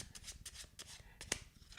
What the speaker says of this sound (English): And I shuffle the card once